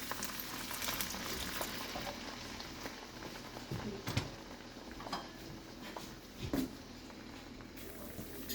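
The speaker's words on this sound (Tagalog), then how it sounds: "kumukulo na" A pan of water bubbles and simmers steadily on the stove while cooking chayote and carrots, with small pops and crackles breaking through a quiet, continuous hiss.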